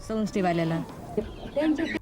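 Hens in a village poultry flock kept by local women cluck several times up close, a short run of rising calls followed by softer clucks, with faint background noise.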